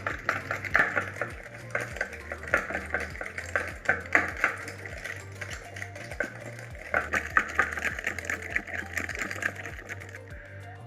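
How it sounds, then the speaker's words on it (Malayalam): Dalgona coffee mixture being beaten hard in a bowl, a fast rhythmic clatter of whisk or beaters that runs steadily for several seconds with brief pauses, close and fairly loud. "അപ്പോൾ മിക്സ് ഞാൻ നന്നായിട്ട് ബീറ്റ് ചെയ്ത് എടുത്തിട്ടുണ്ട്."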